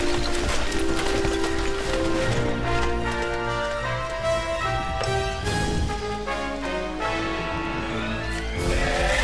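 Horses gallop away in the medieval strategy game Stronghold Legends, their hooves clip-clopping steadily under loud orchestral game music that fills the whole stretch.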